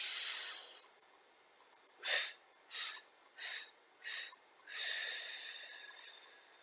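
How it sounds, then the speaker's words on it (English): Slow, deep breathing during an exercise class: a long exhale fades out, then several short, soft breath pulses follow and lead into a longer, steady breath, all close to the microphone and without talking. "on the 5th count, you're just going to exhale completely"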